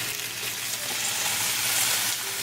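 Pork meat and softened onion fry in a pan on a gas stove, a steady close hiss and sizzle with faint stirring throughout, no voices.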